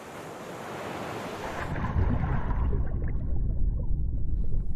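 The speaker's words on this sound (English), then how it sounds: "As I plunge into the waves, the thick sea encloses around me, holding me with its power." Ocean surf and gusting wind rise into a loud, continuous rumble of crashing water, with wind buffeting close to the microphone and no voices.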